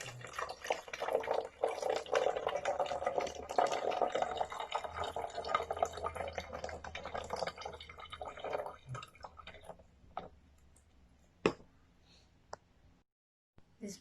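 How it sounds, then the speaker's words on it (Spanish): Hydrogen peroxide poured into a plastic container, a steady liquid pour lasting several seconds, then a few isolated drips and clicks as it stops, close by and moderately quiet. "vamos a tomar nuestra agua oxigenada y la depositaremos dentro del recipiente plástico"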